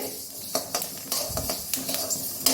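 Jackfruit seeds and rice roast in a pan, giving scattered sharp pops and crackles over a faint sizzle, with occasional stirring scrapes, close and fairly quiet.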